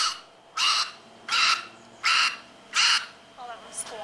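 Beluga whale squawking through its blowhole, four loud harsh bursts in a steady rhythm, each under a second long, followed by softer chirping whistles; close and clear over quiet background.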